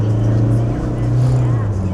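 A used 2015 Toyota Fortuner 2.8 V 4WD SUV with a 2,800 cc, 177 hp engine accelerates on a test drive, heard from inside as a loud, steady low engine drone with road rumble.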